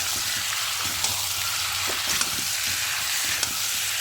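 Chicken pieces and potato sautéed together in a pan for a palak chicken curry, a steady close sizzle with occasional clinks and scrapes of a spatula stirring, no voices.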